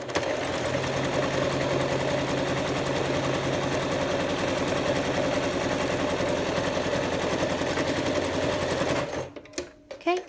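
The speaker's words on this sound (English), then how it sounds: "And then we're going to sew on the inner edge" A sewing machine stitching a cloth face mask runs steadily at a fast, even mechanical rhythm, loud and close for about nine seconds, then stops abruptly and is followed by a few faint handling sounds.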